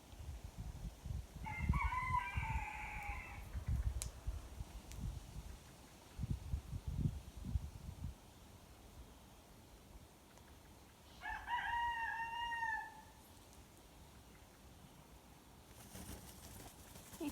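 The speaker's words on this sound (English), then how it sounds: "And Rooster is singing." A rooster crows twice, each call a drawn-out cock-a-doodle-doo at moderate distance, outdoors where cockatoos feed on hawthorn berries, with soft rustling and a faint knock between calls.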